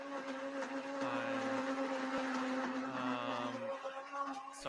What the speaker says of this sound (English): Sorry, I can't hear you over this blender.